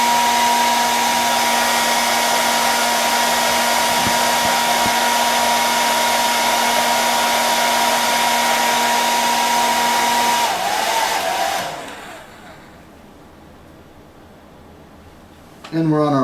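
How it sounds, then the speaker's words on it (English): A hair dryer blows steadily at close range with a constant whirring hum, then switches off and the room falls nearly silent. "I'll step and dry this under a dryer"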